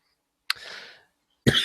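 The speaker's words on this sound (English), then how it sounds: "Sorry about me coughing this week" Two quick dry coughs, close and fairly quiet, about a second apart.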